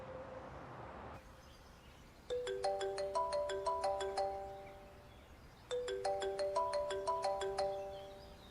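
A phone ringtone plays in two bursts of bright, repeating melodic chimes, each lasting a few seconds with a short pause between, clear and close in an indoor domestic drama scene with no talk over it.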